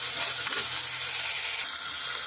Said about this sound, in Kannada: ನೀಟಾಗಿ ಫ್ರೈ ಆಡಿಸ್ಕೋಬೇಕು.